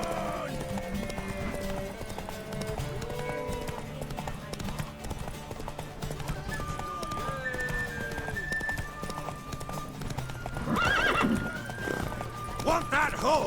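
Horse in The Witcher 3 video game neighs loudly near the end while hooves clop steadily throughout, layered under game music and characters talking.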